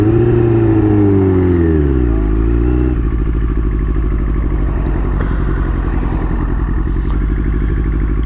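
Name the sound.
2000 Yamaha R6 exhaust pops during quickshifter gear changes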